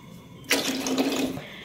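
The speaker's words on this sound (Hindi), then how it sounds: "अब 1/2 kg पानी डालेंगे हम इसमें" Water pours into a cooking pot for chana pulao in a steady splashing stream of about a second, starting abruptly and cutting off cleanly.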